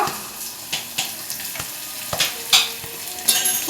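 Chopped onion hits a hot pan with garlic and fries, giving a steady sizzle broken by sharp stirring scrapes and clatters at an irregular rhythm, close and fairly loud, with no talking.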